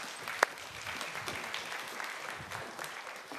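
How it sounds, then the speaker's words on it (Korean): A youth worship congregation applauds to give glory to God, with moderate, steady clapping and a sharp louder clap near the start, sustained for a few seconds. "하나님께 영광의 박수 함께 올려드리겠습니다."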